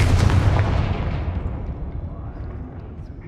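Confringo blasting spells explode in the Hogwarts Legacy video game, opening with a heavy booming burst whose rumbling tail fades away over a few seconds.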